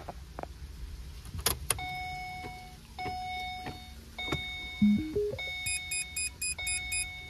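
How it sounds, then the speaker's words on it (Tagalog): A Holden Commodore being switched on, with key clicks and jangling followed by a series of chimes and rising electronic beeps, then a repeating cluster of warning tones, close inside the quiet cabin. "On natin yung sasakyan."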